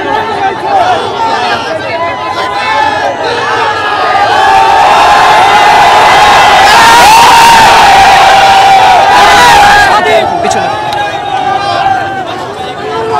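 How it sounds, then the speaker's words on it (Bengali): A large protest crowd chanting anti-government slogans, with loud, sustained massed voices rising and swelling in unison at close range, shouting blending into a continuous roar. "ক্ষোভ থেকে তারা আজকে এখানে সরকার বিরোধী বিভিন্ন ধরনের স্লোগান দিচ্ছে"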